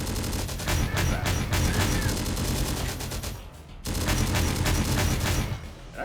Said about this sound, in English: that autocannon is definitely shooting fast